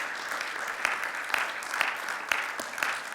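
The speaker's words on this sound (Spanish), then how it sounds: "Puede darle un fuerte aplauso al Señor de agradecimiento." A church congregation applauds in thanksgiving, a fairly soft and even clatter of many hands with a few sharper claps standing out.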